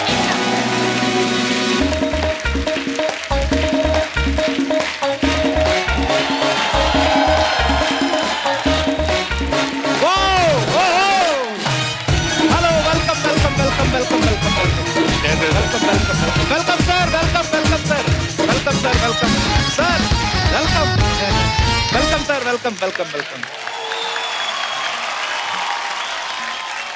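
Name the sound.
audience applause on a TV comedy show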